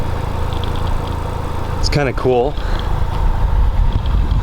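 A Ford Focus RS idles with a low, steady exhaust rumble, kept in the background beneath a person speaking close by.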